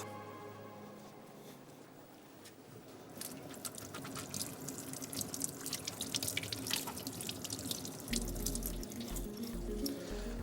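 Vegetables being washed in a kitchen sink for a vegetable butter chicken recipe, with steady running tap water and splashing throughout, growing louder midway and continuing close by without speech.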